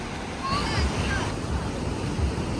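Surf washes onto a beach shore at Barra da Lagoa, Florianópolis, on a rainy, gray day. A loud, continuous roar of breaking waves mixes with wind buffeting the microphone, and faint voices sit in the background.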